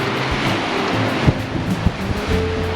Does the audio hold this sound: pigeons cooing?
no